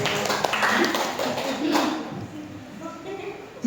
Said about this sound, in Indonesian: tepuk tangan untuk Burhan